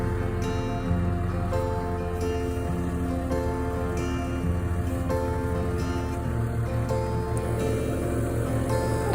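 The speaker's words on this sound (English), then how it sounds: "a small power pump to pump up the tyre because it's going down" A small electric tyre pump powered from a car runs with a steady, droning mechanical hum while inflating a tyre, staying constant, with no voices.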